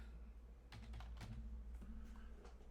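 Quiet, close keystrokes tap out a short word on a computer keyboard in a home lab, clustered in a few quick bursts over a low steady hum.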